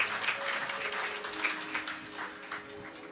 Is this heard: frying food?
no